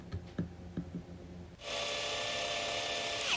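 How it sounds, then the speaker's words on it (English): A hole saw cuts a hole in a plastic meter box for an RV generator volts-amps-watts load meter; after a few light taps it starts up loud and steady, whirring continuously to the end. "that hole saw can catch and fling that box right out of your hand"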